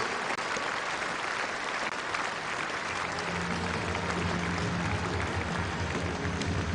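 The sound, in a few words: crowd applauding at Ageas Bowl cricket match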